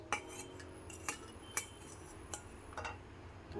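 A utensil stirring an omelette mix of egg with green chillies and onion in a bowl, giving a few sharp metallic clinks at an uneven pace, fairly quiet and alone.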